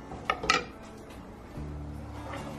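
A utensil clinks a couple of times against a pot of pumpkin mousse mixture being stirred toward a boil, then a low steady hum settles in, quiet and close.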